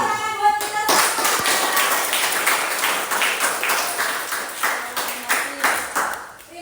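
A group of students at a school gives steady applause, a close, rhythmic patter of clapping that fades out toward the end.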